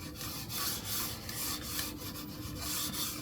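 A computer mouse fitted with new replacement skates glides back and forth across a mousepad, a soft continuous rubbing and rasping sound, close and fairly quiet, with no voices.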